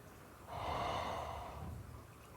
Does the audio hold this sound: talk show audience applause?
no